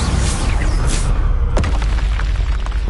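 Booming spell blast from Bombarda cast in the video game Hogwarts Legacy, a loud dense burst with a sharp crack partway through, amid a continuous rumbling game soundscape.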